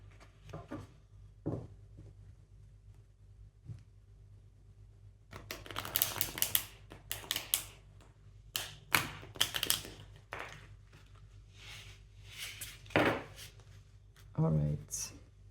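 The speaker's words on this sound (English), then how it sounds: "Just going to shuffle the deck like this in order to just refresh the energy." Tarot cards being shuffled by hand, a cluster of quick riffling and tapping bursts in the middle, fairly close, with a person speaking softly around them.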